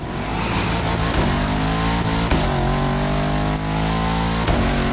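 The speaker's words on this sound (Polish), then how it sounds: "Dźwięk się zmienił tego Bugattiego" Bugatti hypercar engine in the racing game The Crew Motorfest, revving loudly and continuously with rising gear sweeps and brief dips at each shift, close and dominant throughout with no talk.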